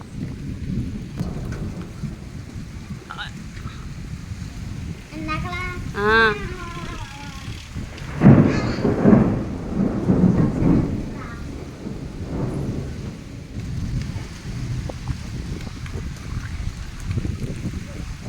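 A loud thunderstorm with steady rain and lightning: a heavy crack of thunder swells into a long rolling rumble midway, over continuous rainfall, with a brief faint voice-like sound just before it.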